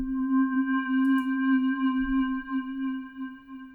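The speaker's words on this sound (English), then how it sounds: "There's the delay." A synth pad with a delay effect plays in Arturia Pigments 3 as a clean, sustained tone with steady harmonics. It is held evenly for a few seconds, with soft faint blips underneath.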